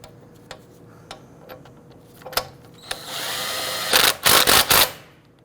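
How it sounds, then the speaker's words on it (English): Lug nuts on an Infiniti G37 are tightened with a wrench in a workshop: scattered sharp ticks, then a sustained whirring burst and several loud, close clattering bursts near the end. "Go ahead and torque down your lug nuts to 80 foot-pounds"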